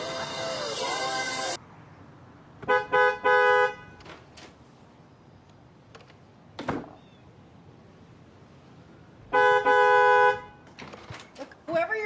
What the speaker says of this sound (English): whoever you're honking for, you got the wrong house